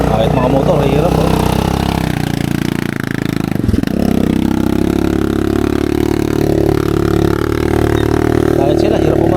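Motorcycles strain up a steep zigzag road in Montalban, engines droning and revving under load, loud and close, with a brief clatter partway through and people talking over the engine noise.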